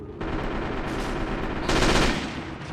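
Troops firing rifles and machine guns in the WWII strategy game Men of War: Assault Squad 2, around a 1939 Finnish defensive line, with steady rattling bursts that swell louder for a moment midway.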